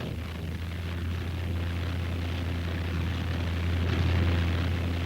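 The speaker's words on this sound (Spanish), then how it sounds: "Como el Stuka, bombardero de ataque en picada cuyo chillido daba escalofríos al corazón más valeroso." Continuous droning roar of a Stuka dive bomber's aircraft engine, loud and steady throughout, swelling slightly toward the end, with no voices.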